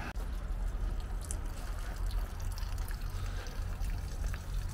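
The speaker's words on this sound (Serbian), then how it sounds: "Evo vidite, voda ističe ovde pozadi na plagu." Engine cooling water drains out through a rear drain plug of a boat being readied for winter, making a continuous close trickle and pour with a low rumbling undertone and a few faint clicks.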